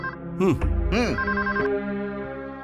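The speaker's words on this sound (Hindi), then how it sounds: "चिनू, फोन उठाओ।" In a film scene, a telephone bell rings in short trilling bursts, loud and near, with voices speaking around the rings.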